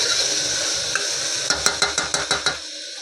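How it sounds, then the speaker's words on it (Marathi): Onion and tomato masala roasting in a pan with salt, a steady sizzle overlaid by a quick run of about seven rhythmic scrapes and taps of a spoon stirring against the pan. "आणि आता भाजून घेते."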